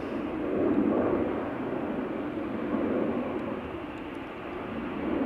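A Boeing 737-800 departing Amsterdam Schiphol Airport for Edinburgh produces a broad, steady jet roar, swelling and easing slightly, heard from a distance as one continuous wash of engine noise.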